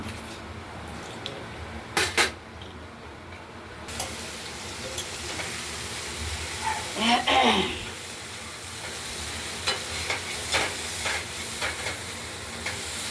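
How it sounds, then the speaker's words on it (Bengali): Thin-cut pumpkin strips frying in a pan seasoned with mustard seed and chilli, a steady low sizzle broken by a few sharp scraping stirs, with someone talking over it. "বারে বারে আমরা নেড়ে ছেড়ে দিচ্ছি ভালো চারদিকটাই ভাজা করে নেব"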